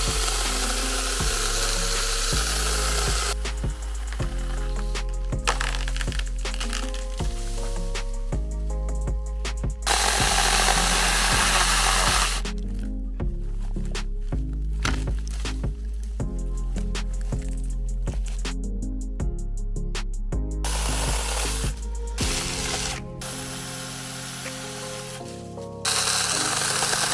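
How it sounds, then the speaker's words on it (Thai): A small 4-inch cordless electric chainsaw cuts through wood with a steady, loud whine and buzzing chain noise, broken by short pauses and shifts in pitch as the blade bites and frees, running continuously close up for the whole stretch. "ผมรู้สึกว่าการใช้งานของตัวเลื่อยเนี่ยตัวเลื่อยทํางานได้ดีนะฮะ"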